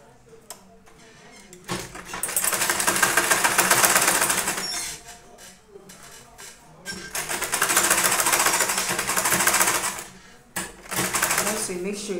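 A sewing machine stitches down the seam of a tote bag at half an inch, running in two long, loud bursts of rapid chattering with brief pauses and clunks between them.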